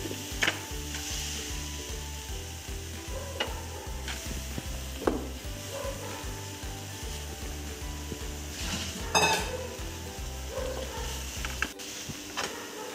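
Soya chunks, squeezed of their water, sizzle steadily in a hot pan for the whole stretch, with scattered clinks and scrapes of stirring on top.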